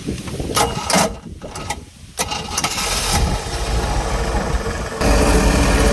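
An OMC Cobra boat engine with an overheating fault cranks with some mechanical clatter, then catches and settles into a steady, loud idle that keeps running.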